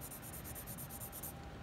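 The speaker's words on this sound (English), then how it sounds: "2H pencils are great for sketching and planning." A 2H graphite pencil sketches on paper in steady, quiet back-and-forth scratchy strokes, a soft continuous rhythmic scraping close to the microphone with no talking.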